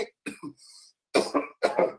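Several short, harsh coughs come in quick bursts, close and fairly quiet, with brief pauses between them.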